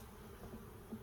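Bees in a farm beehive give off a faint, steady low buzz throughout.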